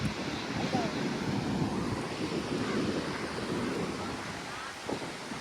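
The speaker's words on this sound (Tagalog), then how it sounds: "Yan yung Carmona Beach." Waves wash continuously onto the shore at Carmona Beach under gusty wind rumbling against the microphone, a steady broad roar throughout.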